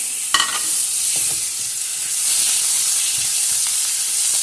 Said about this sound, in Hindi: अब इसमें डालूंगी मैं ये कीमा चिकन का